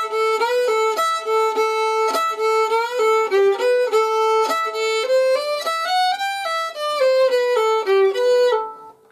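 A solo fiddle plays the opening measures of the Irish reel The Gravel Walks: a lively, continuous run of bowed notes, close and steady, with no talking.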